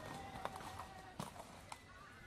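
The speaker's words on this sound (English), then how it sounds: "Later, Mulan walks through the market with her new horse." A horse walks through a market, its hooves clip-clopping in a few soft, uneven knocks against a quiet, hazy background.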